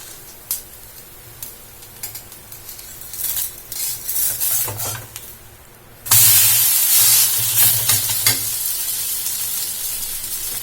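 Breakfast batter frying in a covered pan, a low steady sizzle with light clinks of utensils, then a sudden loud burst of hissing when the lid is lifted and the batter is turned, sizzling strongly to the end.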